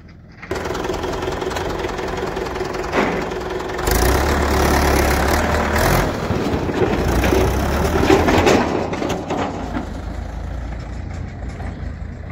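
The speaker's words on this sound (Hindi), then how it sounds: "ट्रैक्टर वापस भरने के लिए जा रहा है खेत में हमारे।" A tractor engine runs on a farm field with a loud, steady, rough rumble that swells partway through and holds for many seconds, with clattering mechanical noise layered over it.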